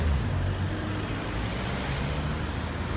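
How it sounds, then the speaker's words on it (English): Cars pass through a hotel car park, a continuous roar of road traffic and engine rumble, fairly loud and steady throughout, with no voices. "Be wary of cars coming in and out here."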